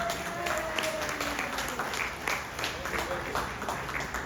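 An audience at a 60th birthday celebration breaks into applause, steady crowd clapping throughout with a voice talking faintly over it.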